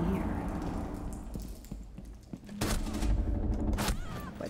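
Bursts of video-game gunfire from Rainbow Six Siege: scattered thuds and shots, then heavier rapid fusillades toward the end, heard at moderate level with game ambience.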